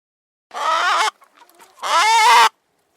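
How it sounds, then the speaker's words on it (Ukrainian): Two loud, close bursts of a hen's squawking cackle with a short quiet gap between them. "Це куриця."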